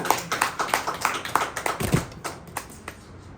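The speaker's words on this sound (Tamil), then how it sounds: "கைத்தட்டி ஆண்டவரை மகிமைப்படுத்தலாமா?" Congregation clapping hands in a church service, a run of sharp irregular claps spread across the room, fairly close and moderately loud, with faint voices underneath.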